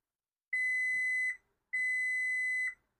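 A multimeter gives two clean, steady electronic continuity beeps during a leaf blower repair, each about a second long and separated by a short silence, loud and close against a quiet background.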